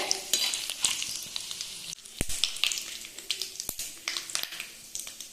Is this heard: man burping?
no